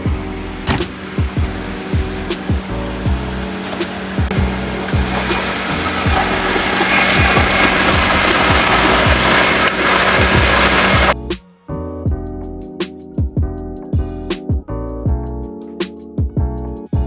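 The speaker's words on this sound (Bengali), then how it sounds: "গাড়িটি কিন্তু সম্পূর্ণ স্টার্ট অবস্থায়।" A Toyota Cynos car sits running with its engine idling, a steady mechanical hum with rhythmic ticking, then a sudden dip before the idle continues with sharper clicks.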